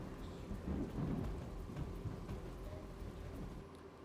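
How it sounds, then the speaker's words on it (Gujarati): Heavy rain pours down over flooded streets in Surat, a dense steady roar of rain on surfaces with low rumbling underneath, continuous and fairly distant in tone. "ઊંધના, અઠવા સહિતના વિસ્તારમાં ધોધમાર વરસાદ છે"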